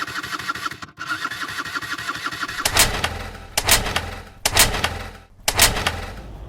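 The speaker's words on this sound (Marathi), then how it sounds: "ती पोरगी बिचारी स्कूटीनी किक मारते." A scooter being kick-started: a mid-pitched engine sputters and runs unevenly, then several loud bursts of revving follow in quick succession, close by, with no talk.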